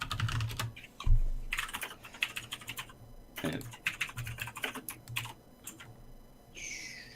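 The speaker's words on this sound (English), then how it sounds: "He said he was done with everything, but he's still typing." Someone types on a computer keyboard in irregular bursts of clicking keystrokes, fairly faint, with a few louder thumps and brief pauses between runs.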